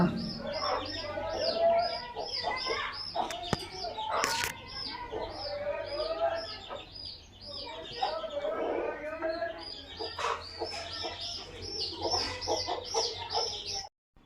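Dense, continuous peeping of small chicks fills the scene, with occasional cooing and clucks from adult birds nearby.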